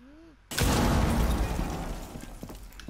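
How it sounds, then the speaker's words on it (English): A sudden loud explosion bursts in after a brief quiet moment, followed by a long rumbling roar that slowly fades, in the video game Tom Clancy's Rainbow Six Siege. "all I hear is an explosion"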